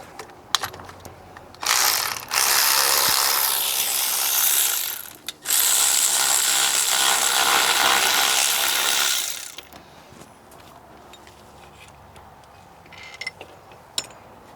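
A ratchet wrench loosens 14 mm bolts while a 2007 Honda Accord 2.4L engine is pulled, giving loud, fast continuous clicking in two long bursts with a short pause between, then a few isolated clicks alone.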